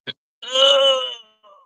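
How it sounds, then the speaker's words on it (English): A massive human yawn: a short click, then a drawn-out, loud voiced moaning exhale lasting nearly a second that tapers off, followed by a faint trailing breath. "when you let out a massive yawn, your eyes tend to shut"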